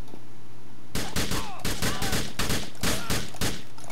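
Gunfire in Grand Theft Auto IV, rapid close bursts of shots that start abruptly after a second of quiet hum and then keep going in a fast, loud, uneven rhythm.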